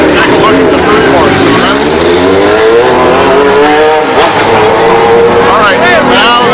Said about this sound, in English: We'll wait until that motorcycle finishes revving.